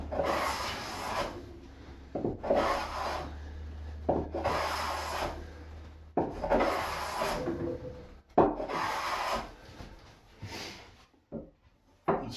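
A Stanley Sweetheart #4 hand plane shaves black locust wood in repeated long, rasping strokes, about five passes with brief pauses between them, close and clear with a low hum underneath and no talk.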